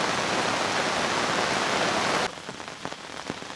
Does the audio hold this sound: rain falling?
yes